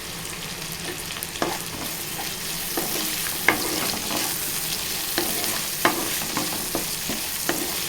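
Curry leaves sizzle in hot oil in a pan, with steady frying hiss and a series of sharp spoon taps and scrapes against the pan throughout, close and clear with no voices.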